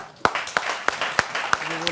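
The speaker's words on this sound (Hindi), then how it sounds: "तालियां" A studio audience claps in a loose rhythm, with sharp claps landing about every third of a second over a bed of lighter clapping at a fairly loud level.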